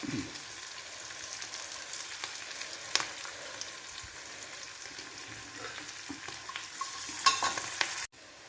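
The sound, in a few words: curry leaves frying in oil for bitter gourd pickle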